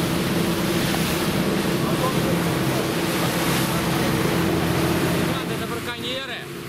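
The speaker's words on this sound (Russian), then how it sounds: "Блин, волна здесь, да." Sea waves breaking near a cape on the Kamchatka coast, a dense, continuous roar of surf with heavy wind buffeting the microphone, steady and loud throughout before easing slightly at the end.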